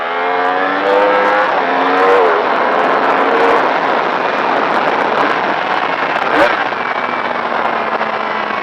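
Yamaha R1 motorcycle accelerating hard on a race track, a loud close engine whose pitch climbs in repeated rising sweeps before settling into a sustained high drone.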